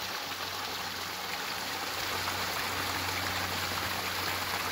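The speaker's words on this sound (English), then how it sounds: "Nothing to see here, just another random waterfall." A small waterfall on a backpacking trail in Washington's Glacier Peak Wilderness, water sliding down rock in a steady, close, even rush of broadband noise with no voices.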